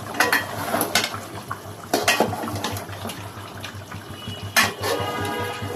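Beef curry for Qurbani being stirred in a cooking pot, with a metal spoon scraping and clanking against the pot in several sharp bursts over a low bubbling simmer.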